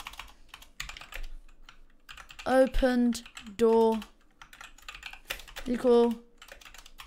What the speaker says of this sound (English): oh no, typing's not on point today